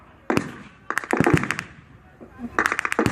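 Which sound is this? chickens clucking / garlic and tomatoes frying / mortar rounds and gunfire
mortar rounds and gunfire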